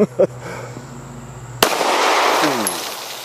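A single sharp shot from a Luger pistol loaded with Winchester white box ammunition cracks out midway, followed by a lingering wash of noise, with a few faint knocks before it.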